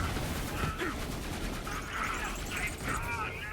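Gunfire from a fine gun in Borderlands 3, played as Explosive Moze in Mayhem 8, going off as a dense continuous rattle of shots that stays loud and steady under talking throughout.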